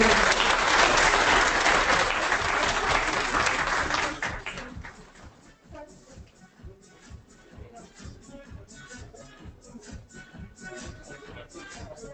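Audience applause at a leadership conference as guests are called up for mementos, a loud, dense burst of clapping for about four seconds, then dropping to a few scattered claps and shuffling.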